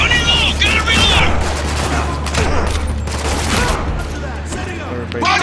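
Rapid gunfire in the shooter game Spec Ops: The Line, with dense bursts of shots crackling across the whole stretch while someone talks excitedly over the top.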